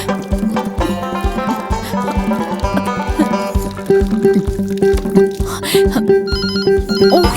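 A phone rings loudly with a repeating electronic ringtone, its tones pulsing in a steady rhythm with a few faint background noises.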